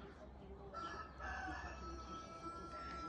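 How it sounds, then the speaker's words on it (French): A rooster crows once in a long, drawn-out call, clear but not very loud, against a quiet background. "Et vous attendez le coq qui est pas au lit."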